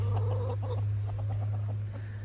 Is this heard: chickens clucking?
yes